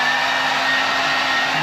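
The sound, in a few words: hairdryer running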